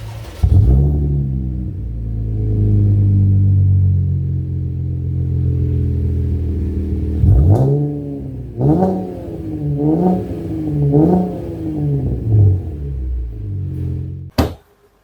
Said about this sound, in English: I knew this immediately that this was the V6 engine is because of the exhaust